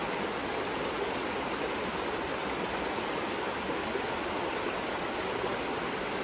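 A river rushes steadily past trees, a dense, constant broadband wash of flowing water, close and unbroken, with no voices.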